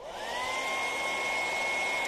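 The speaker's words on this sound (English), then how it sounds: "I'll just quickly hit that with the hairdryer." A hair dryer switches on and blows with a steady, close whooshing roar and a high whine, continuous to the end.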